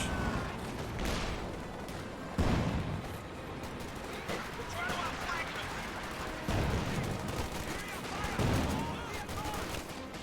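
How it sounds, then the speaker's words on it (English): Artillery barrage firing in Company of Heroes 2 battle, several booming blasts spaced a few seconds apart over continuous rumbling combat noise and scattered gunfire, with talking mixed in. "He does fire while moving the barrage"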